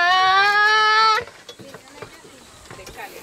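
A small child imitates a motorbike with a steady buzzing, engine-like drone that lasts about a second and stops abruptly, followed by faint background noise.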